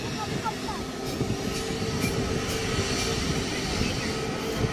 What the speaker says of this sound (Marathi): तर आता इंडिगोची टेक ऑफ आहे.